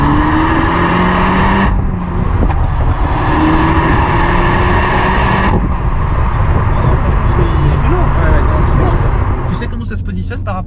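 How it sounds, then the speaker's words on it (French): A Peugeot 308 GTi pulls hard in second gear from 2000 rpm, its engine rising in pitch through a loud, sustained roar with a gear change midway, while people talk over it inside the car. "Donc une reprise en 2 à 2000 tours."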